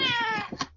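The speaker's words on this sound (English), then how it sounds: "Remember the cat got involved there." A cat gives a single clear, close meow during a radio sports interview, a short drawn-out harmonic cry followed by brief faint sounds.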